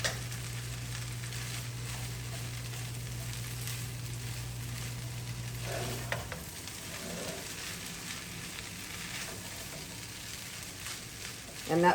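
Fried rice with vegetables and butter sizzling in a pan as it is stirred, a steady soft crackle with scraping, a low hum that cuts out partway, and a louder clatter at the end.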